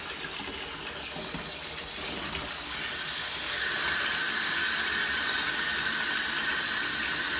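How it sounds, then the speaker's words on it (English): Tap water gushes steadily into a jetted bathtub, a broad continuous rush that becomes louder and fuller about halfway through, with no talking. "I'm gonna go ahead and turn my water on."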